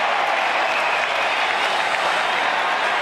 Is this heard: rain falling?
no